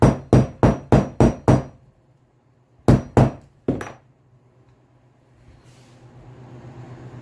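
Loud metallic hammer strikes on a domed tool peening a leather rivet ring out, a quick run of six blows, a pause, then three more, followed by quiet rustling.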